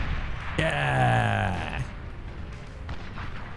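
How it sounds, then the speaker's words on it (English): Explosions and artillery fire in the real-time strategy game Beyond All Reason, with a descending whistling tone over booming blasts, followed by scattered impacts and a faint voice briefly speaking. "Gotta love explosions."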